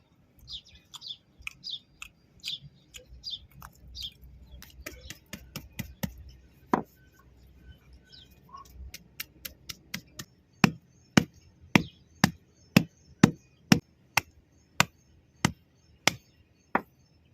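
Sea almond shells cracked with a stone outdoors, sharp hard knocks that start sparse and become a steady, loud rhythm of single strikes, with birds chirping in the background early on.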